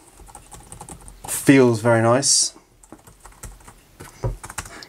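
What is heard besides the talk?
typing on a Thinkpad T14 laptop keyboard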